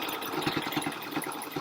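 Sewing machine running a decorative stitch on patchwork fabric, a steady close mechanical whirr with a quick repeating knock of the needle, moderately loud and without talk.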